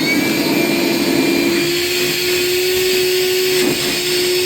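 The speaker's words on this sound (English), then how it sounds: "So vacuum that out" A shop vacuum sucks debris out of a freshly drilled hole during a plumbing service call, running as a loud, steady whine that drones on unbroken with a slight dip near the end.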